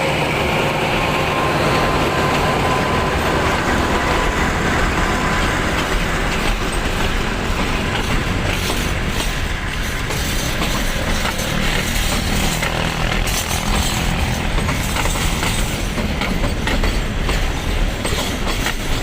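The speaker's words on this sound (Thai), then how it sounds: "นำโดยดีเซล 4306สีสวยสดใหม่ เพิ่งออกวาระมาได้ไม่นานครับ" SRT diesel locomotive 4306, freshly overhauled, hauls freight train 726 of container and PTT tank wagons from Tha Muang toward ICD Lat Krabang, a loud, steady rumble of engine and rolling wagons with clickety-clack wheel noise throughout.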